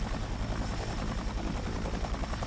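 Helicopter rotor thudding steadily in a video game, a loud, constant chopping drone with a thin high whine that fills the whole stretch without a break.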